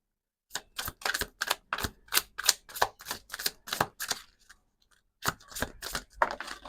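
Rapid crisp flicks of cards being riffled and shuffled in a quick, even rhythm, a short pause, then more shuffling close up.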